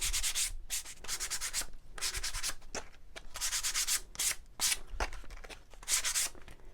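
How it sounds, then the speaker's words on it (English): Hand sanding both sides of a distressed wooden shiplap platter, repeated rhythmic scratchy strokes in short bursts, close and fairly quiet, with no talking. "I'm going to sand both the sides here"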